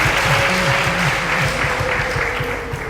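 A church congregation claps steadily and fairly loudly for a few seconds, the applause dense and continuous with a faint sustained tone beneath it.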